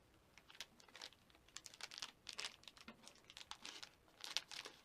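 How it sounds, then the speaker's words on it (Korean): A package of paper clay is torn open by hand, with close, faint crinkling and tearing of the wrapper in quick irregular bursts. "자, 일단 지점토를 뜯어보겠습니다."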